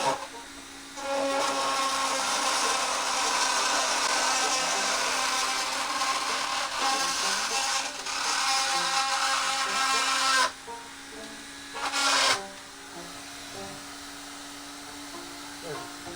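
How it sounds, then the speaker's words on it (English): Roto Zip Rebel spiral saw cutting a nub off vinyl siding during a mini split heat pump install, a loud high whine that holds steady, dips briefly, then winds down to a lower idle hum. "I can just cut a nub off the side of that piece of siding"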